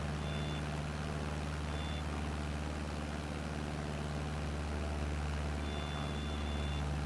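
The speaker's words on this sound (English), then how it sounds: "I don't know why he's beeping." A vehicle beeps in Microsoft Flight Simulator 2020: faint, thin beeps come in short bursts at the start, near the two-second mark and again later, over a low, constant engine drone.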